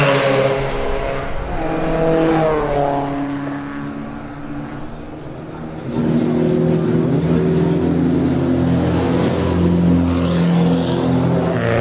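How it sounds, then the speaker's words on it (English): Race cars drive at a motorsport event, engines loud and close, revving and shifting through rising and falling tones, with a brief dip before a heavier engine surge takes over. "Now we see a couple of cars that have been into the pit area."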